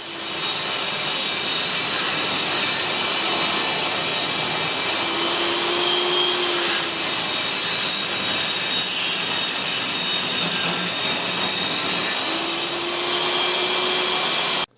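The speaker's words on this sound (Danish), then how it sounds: "Jeg bruger Korn 80, Korn 120 og Korn 180 på den laveste hastighed på excentersliber." A random orbital sander works a raw wooden plank at its lowest speed, giving a loud, continuous whirring hiss that holds steady for the whole stretch, with small shifts in pitch as the pad moves, and no talking.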